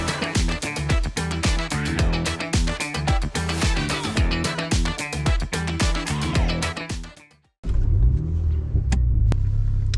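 Music plays at first, then a Mini JCW takes over on a road along Scotland's North Coast 500, giving a loud, close, deep engine rumble for the last few seconds.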